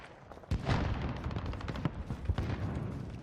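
Rifle fire from the Scar in Modern Warfare, a sharp loud opening shot followed by a string of irregular rapid shots and bursts at close range.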